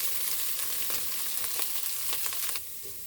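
Ground meat and onions frying in a pan for homemade chili make a loud, steady sizzle with crackles and occasional stirring, which drops off slightly near the end; no speech.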